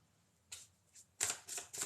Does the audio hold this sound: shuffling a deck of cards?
yes